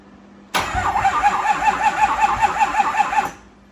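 A Ford 6.0 Powerstroke diesel truck engine cranks over sluggishly on low batteries for about three seconds, a slow rhythmic chugging that never catches, loud and close.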